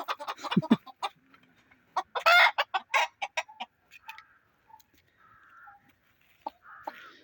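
Young hens cluck and squawk up close in quick irregular bursts in a late-autumn garden, then softer drawn-out calls follow in the quieter stretch.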